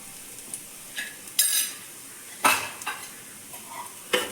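Spices, including chili powder, fry in a hot pan for a spinach thoran, with a soft sizzle underneath and several sharp scrapes and clinks of a utensil stirring, spaced irregularly and close by.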